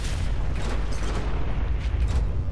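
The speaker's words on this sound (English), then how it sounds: "Orbital missile barrage." Orbital missile barrage explosions in Fallout 4 roll together into a continuous rumbling, crackling roar of blasts that stays loud throughout, with no voices.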